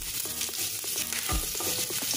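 Steady hiss and sizzle of garlic and green chili frying in hot oil, with a few scraping stirs from a utensil in the pan, close and continuous.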